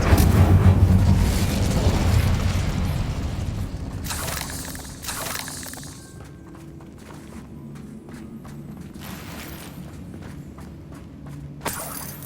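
Fire spell blast in the Hogwarts Legacy video game, a loud booming burst with roaring crackle that fades into quieter footsteps and a sharp pop near the end, no talk.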